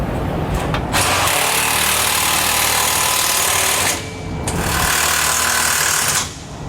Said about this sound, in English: Once we get it threaded into both of the nuts, we can then tighten down our hardware.